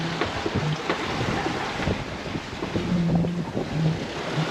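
Strong wind buffets a sailboat under sail at close to six knots in about 21 knots of breeze, with steady rushing wind noise and waves washing against the hull, loud and continuous throughout.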